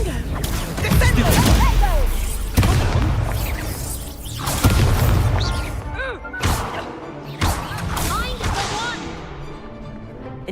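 Repeated booming spell blasts from the Confringo spell in Hogwarts Legacy, several heavy explosive hits with crackling tails in quick succession amid other combat effects.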